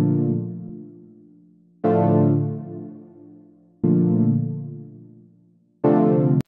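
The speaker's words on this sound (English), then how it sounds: "So to start with, I just built a simple chord progression" A simple synthesizer chord progression: four sustained chords struck about every two seconds, each loud at onset and slowly decaying, with no other sound.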